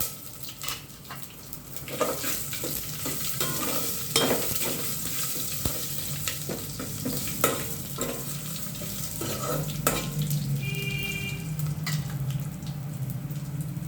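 Garlic and dried red chillies sizzle in hot oil as a tempering for bottle gourd dal, stirred with a spoon. A steady frying hiss runs throughout, with repeated scraping and clinking strokes against the pan.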